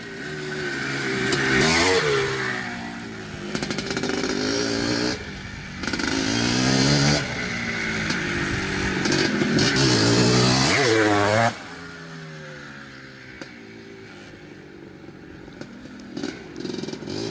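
A restored 1982 Maico MC250 two-stroke motorcycle engine, loud and close, idling raggedly and revving repeatedly in rising and falling sweeps over about twelve seconds before settling to a lower, quieter idle.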